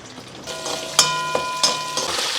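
Garlic and a handful of curry leaves sauté in hot oil, a steady close sizzle broken by a few clicks and taps of a spoon against the pan.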